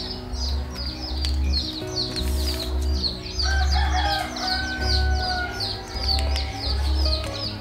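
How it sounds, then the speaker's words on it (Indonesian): Chickens cluck and a rooster crows repeatedly, loud and close, with a scattering of small birds chirping overhead and a steady low drone behind. "Banyak suara ayam di sini."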